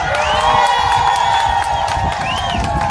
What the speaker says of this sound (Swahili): Na sasa makofi ya mheshimiwa Ares Wamboi Ng'ang'a.